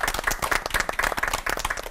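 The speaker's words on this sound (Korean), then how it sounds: "이 세 분 목사님께 다시 한번 뜨거운 박수 부탁드립니다." A studio audience at a Korean church lecture broadcast applauds three pastors with brief, dense, energetic clapping from many hands, close and even, with no voices over it.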